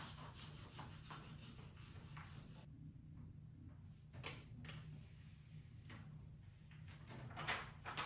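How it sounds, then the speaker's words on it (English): A scraper tool glides over hot iron-on vinyl on a t-shirt, producing soft, close rubbing and scraping strokes with a few sharper swipes, faint and continuous. "I'm going to take my scrape tool and just glide it over."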